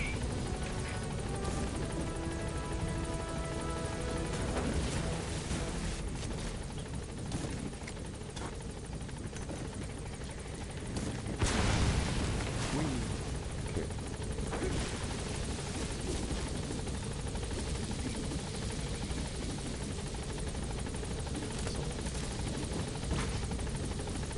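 Pequod's helicopter from the video game Metal Gear Solid V drones steadily and loudly throughout, a continuous rotor roar with a brief swell around the middle as it gains altitude.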